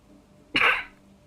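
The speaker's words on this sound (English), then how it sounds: "Forgive me, for I have sneezed." One short, forceful sneeze bursts out close by, cutting a quiet room for about a quarter second before fading.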